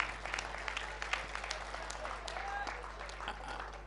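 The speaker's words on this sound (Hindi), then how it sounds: "एक बार तालियां बजाइए" An audience at a Hindi comic poetry gathering claps in a faint, steady patter of applause, with voices murmuring through it.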